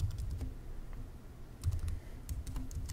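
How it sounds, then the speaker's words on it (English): Someone types a router password on a computer keyboard, giving a short run of soft, close key clicks in small bursts over quiet room noise. "so let me type that in"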